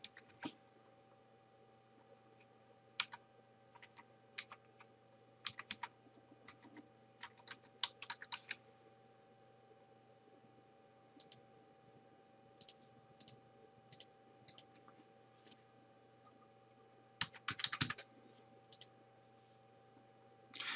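Credit card details typed on a computer keyboard in a quiet room: sparse, irregular clicks of single keys and short bursts, with a faint steady background hum.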